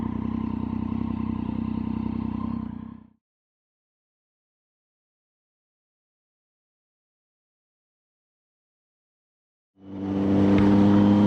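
Triumph Street Triple 675 motorcycle ridden around on a North Wales tour: a steady engine drone for about three seconds that cuts to silence, then returns and builds near the end.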